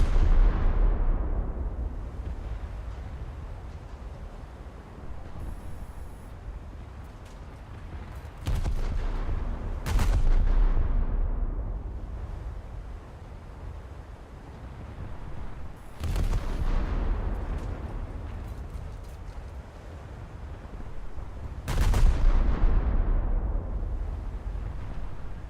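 Torpedo hits exploding in a naval combat game on a test server: several loud booming blasts at irregular intervals, each with a long rumbling decay, over a steady low rumble of ambient noise.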